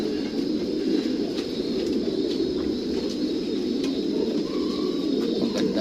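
Young racing pigeons coo at a loft or pigeon shop, a steady murmur of low cooing from several birds close by with faint chirps scattered over it.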